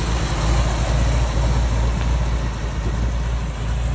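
A 1949 Dodge pickup hot rod with a Chevy 305 V8 idles steadily nearby, a continuous low engine rumble with no talking.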